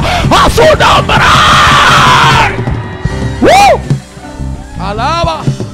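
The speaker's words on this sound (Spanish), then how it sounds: "Da un grito de guerra para arriba." A church congregation in New York roars a loud war cry of praise, many voices yelling and whooping together in sustained bursts, with a voice calling out over the crowd.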